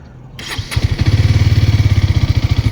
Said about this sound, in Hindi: So let me turn on the engine.